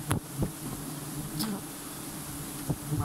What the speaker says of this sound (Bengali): পুরো শরীর মৌমাছি দিয়ে একদম ভর্তি করে ফেলছে।